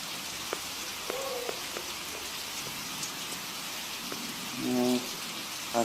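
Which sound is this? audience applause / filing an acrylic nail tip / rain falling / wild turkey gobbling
rain falling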